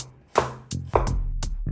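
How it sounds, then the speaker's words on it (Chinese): A knife chops vegetables on a cutting board, such as cucumber slices or shredded chicken breast, in a home kitchen: several crisp, close knocks, one after another, with no talking. "我很喜欢切菜这种感觉的声音"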